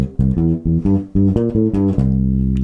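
A bass guitar plays a plucked, walking blues line in the open box shape, distinct notes in a steady rhythm, close and clear, ending on a sustained low note.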